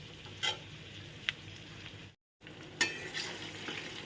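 Ingredients fry gently in a pan over a low flame with a soft steady sizzle, broken by occasional scrapes and clinks of stirring and one brief silent gap.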